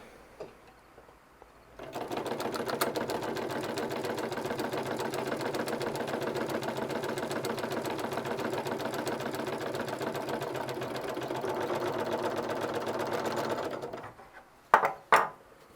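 A Union Special 31500 B industrial sewing machine running a 3/16 double chain stitch, a rapid, steady mechanical chatter that holds for about twelve seconds, then stops, followed by a few sharp clicks and knocks.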